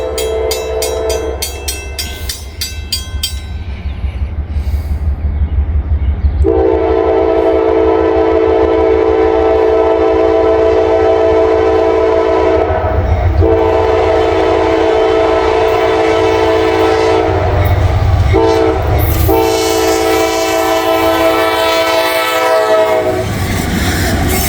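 An empty ethanol train passes close by in the rain, loud horn blasts sounding over the rising rumble and clickety-clack of the cars rolling past, with the horn returning near the end.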